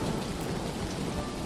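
Steady rain pours during a storm in the video game Dinkum, a dense, loud hiss of falling water with low rumbling underneath, continuous and close throughout.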